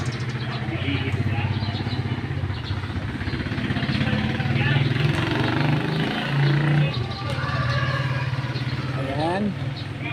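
A large tricycle engine idles with a steady low throbbing rumble close by, while people talk over it.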